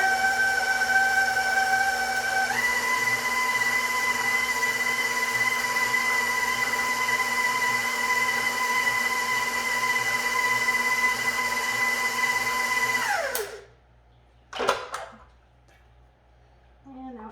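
An electric mixer whirs steadily through chocolate chip cookie dough, its pitch rising slightly early on and running loud and even for about thirteen seconds before winding down, followed by a couple of brief clatters.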